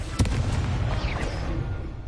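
Confringo spell blast in the game Hogwarts Legacy on PS5, a single sharp explosive boom followed by a rumbling, fading roar, loud and close with no speech.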